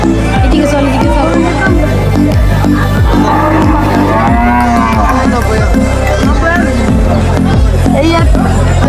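Cows at a busy cattle market in Noakhali mooing loudly and repeatedly in long, drawn-out calls, close by over a constant crowd hubbub with people talking.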